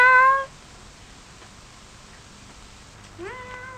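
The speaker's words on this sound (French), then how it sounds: "Miaou!" Two clear cat meows, one at the start and another near the end, separated by a quiet pause with faint background noise.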